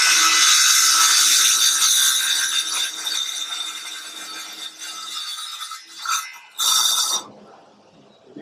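A power tool with a guard cuts through a wooden dowel, giving a loud, steady high-pitched whine and rasp that eases and dips near the end, then surges briefly before stopping.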